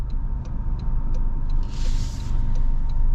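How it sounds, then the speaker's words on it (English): Low steady rumbling road noise from aggressive all-terrain tires on a 2025 Toyota 4Runner TRD Off-Road, heard from inside the cabin as a continuous drone with faint rhythmic ticks, no talk. "You do hear some more noise from the tires."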